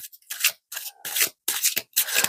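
Kipper fortune-telling cards shuffled by hand in four quick papery bursts, each a brisk rasping riffle separated by short pauses, close and fairly clear with no talking.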